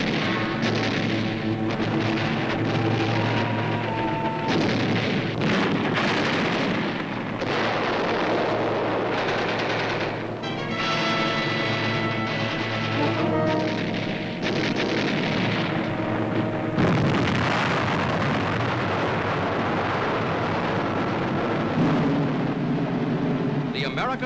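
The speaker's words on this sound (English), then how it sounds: "Marines attack enemy posts directly beneath them with bullets, hand grenades, and charges of explosives" Wartime explosions, gunfire and blasts from a Marine assault on enemy posts on Peleliu in World War II, with bullets, hand grenades and explosive charges, form a loud, continuous rumbling barrage under a musical score throughout.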